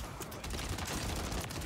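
Rapid automatic gunfire from the NIDAR in the Warzone video game, a dense, loud, continuous burst of shots lasting under two seconds with no break.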